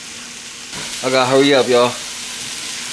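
Vegetables frying in a pan at home, a short burst of sizzling heard briefly under someone speaking close by.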